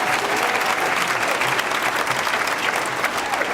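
A live audience at the Commonwealth Club gives steady, full applause for Yvon Chouinard's 78th birthday, close and continuous without a break.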